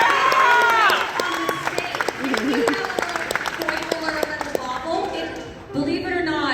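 Convention panel audience breaking into applause, a dense spread of hand claps that rises at once and then thins, with speech and voices carrying over the clapping.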